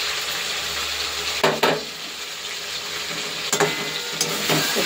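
Garlic and meat sizzle steadily in hot oil, a loud continuous frying hiss broken by a few sharper bursts as the pan is stirred.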